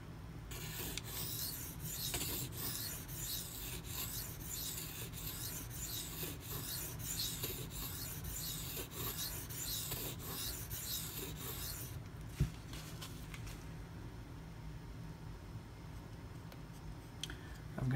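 A Spyderco Paramilitary 2 blade in 52100 steel is sharpened on a stone, with close, quiet rhythmic rasping strokes repeating evenly for about twelve seconds before the scraping becomes irregular and scattered.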